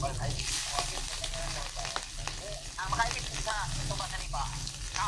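Smoked tinapa fish frying in a pan, a steady close crackling sizzle with oil popping that runs throughout, while faint voices murmur in the background.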